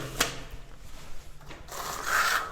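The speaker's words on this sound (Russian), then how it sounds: "Наносим мармарин на стену венецианской кельмой." A Venetian trowel spreads marmorino decorative plaster across a wall, giving close, dry rubbing and scraping strokes with a sharp tap at the start and a longer rasping sweep toward the end.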